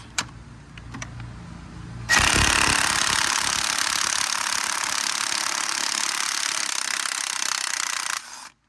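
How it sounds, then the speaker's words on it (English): Cordless impact wrench removing lug nuts from a 2006 Chevy Impala hub, a loud continuous hammering whir running steadily for about six seconds after brief quieter handling noises, then stopping abruptly. "So I got my impact. We're gonna got it fully charged. We're gonna take these lugs off."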